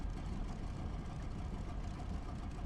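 Aircraft engine running in the DCS World flight simulator video game, a constant low droning rumble with no change in pitch, filling the short stretch alone.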